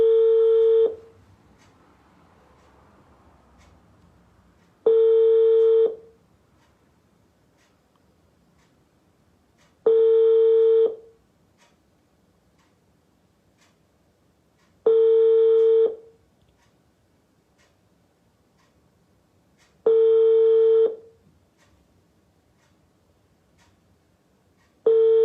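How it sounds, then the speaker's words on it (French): A telephone call rings out unanswered: evenly spaced ringback tones, each about a second long, repeat every five seconds against near silence, with no voice on the line. "maintenant je l'appelle, elle ne répond plus."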